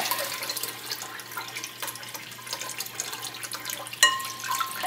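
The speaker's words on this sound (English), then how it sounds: "So you can rinse, dunk, dunk, then set to dry." Harvested lettuce being rinsed and dunked in bowls of water, giving a steady close splashing and running-water wash with small drips and one sharper splash near the end, no talking.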